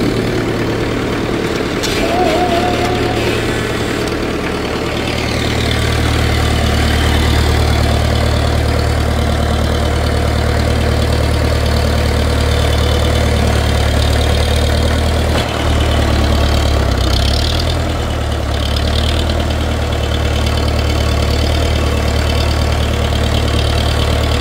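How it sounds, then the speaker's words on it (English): A tractor engine idles steadily with a low, rumbling throb that holds at an even level throughout. "Get the tractor and get this thing dragged away."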